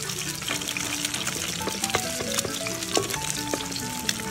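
An egg frying in a hot pan gives a steady close sizzle and crackle with small spitting pops and faint scraping, quiet and continuous with no talk.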